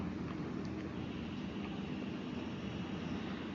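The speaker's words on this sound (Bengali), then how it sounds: "তেলটা ভালো করে গরম করে নিয়ে তেলের মধ্যে দিয়ে দিচ্ছি পটলগুলো" Pointed gourd pieces fry in hot oil with a steady, even sizzle that holds for a few seconds without any talking.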